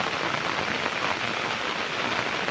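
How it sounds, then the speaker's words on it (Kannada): Steady heavy rain pouring onto surfaces outdoors in lush green countryside near a small waterfall, a dense unbroken hiss throughout, no voices. "ಇಲ್ಲಿ ಮಳೆಯಿಂದ ಹೊರಗೆ ಹೋಗ್ಲಿಕ್ಕೆ ಆಗಲ್ಲ"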